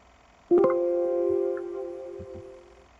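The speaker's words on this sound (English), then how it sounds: "I will hear a beep, system beep" A single steady electronic beep tone from a Python Tkinter alarm clock program starts abruptly and holds for about two seconds before fading, loud and clear against near silence.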